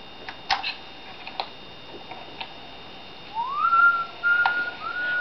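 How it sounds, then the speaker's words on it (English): Tape recording of someone whistling Hoagy Carmichael's Stardust, a faint, thin melodic whistle of a few sustained notes over quiet hiss and scattered soft ticks. "Here's a tape recording of me whistling Stardust"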